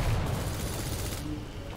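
Rapid nailgun fire from the video game Quake, a dense stream of quick metallic shots and impacts layered with game noise, fairly loud throughout.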